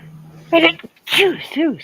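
A person lets out a couple of quick, voiced sneezes up close, each a sharp burst trailing into a breathy vocal sound.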